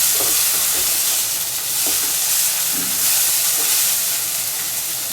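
Tofu, egg and mung beans stir-fried in a pan make a steady loud sizzle and hiss, with scraping stirs breaking through every second or so.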